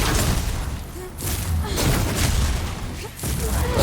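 A fire toss spell cast in Demon's Souls bursts out as a heavy, dull whoosh and boom, with rumbling thuds from the fight that follow in a noisy, dense stretch and someone talking over it.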